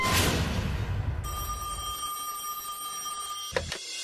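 Electronic ringing of a magic phone in a Bengali kids' cartoon, a steady high bell-like tone that starts abruptly after a brief whooshing sound and runs continuously, ending with a short burst.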